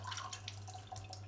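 Tap water runs steadily over a leek split to the centre as it is rinsed at a kitchen sink, a continuous splashing with scattered drips over a low, constant hum.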